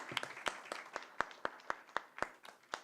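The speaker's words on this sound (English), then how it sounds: "Can we have a big round of applause for the panel?" Claps ring out in a sparse, rhythmic sequence of distinct slaps at a fairly even pace, quiet and somewhat distant, as an audience applauds a panel at a conference event.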